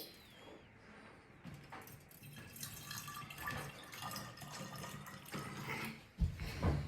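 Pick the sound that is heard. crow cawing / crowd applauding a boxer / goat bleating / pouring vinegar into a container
pouring vinegar into a container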